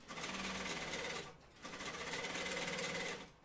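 An Artemis sewing machine topstitches a Blanca flight suit in two long, fast, even runs of needle stitching, close and loud, split by a brief pause.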